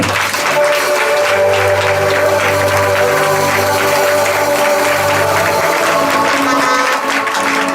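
A church congregation applauding loudly and continuously, a dense close wash of clapping sustained throughout, with faint crowd murmur beneath.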